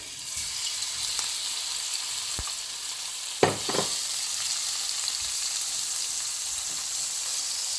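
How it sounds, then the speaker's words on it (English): Shrimp sautéing in preheated oil for Jamaican-style coconut shrimp pasta, a steady close sizzle and fry with a couple of sharp pops and clatters midway, no talking. "So now, guys, I'm going to add my shrimp."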